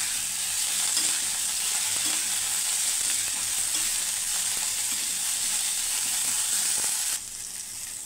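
Ingredients for cucumber chutney sizzle and crackle steadily in a hot pan, a dense, even frying hiss that runs throughout and dips slightly near the end.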